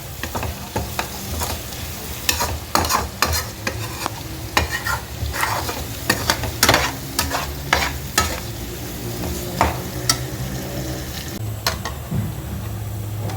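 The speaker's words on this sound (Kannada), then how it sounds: "ಉಪ್ಪು ಹಾಕಿದರೆ ಇದು ಬೇಗನೆ ಈರುಳ್ಳಿ ಬೇಯುತ್ತೆ." Sliced onions frying and sizzling in a pan with oil, salt and turmeric for masala dosa filling, with repeated loud scraping stirs of a spatula over a steady close sizzle, no talking.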